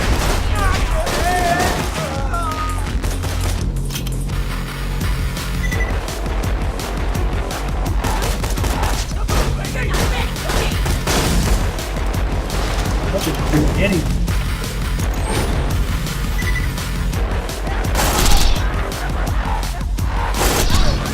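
Pistol fire in Borderlands 2 crackles in rapid, dense bursts amid a busy mix of game effects and music, with someone talking over much of it.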